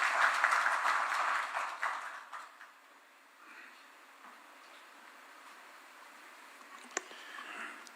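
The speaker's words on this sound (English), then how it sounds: "Let's welcome him with a warm clap." Applause from an audience at a Kenyan contract-signing ceremony welcomes a cabinet secretary, loud at first and then fading quickly into a low, sparse patter, with one sharp click near the end.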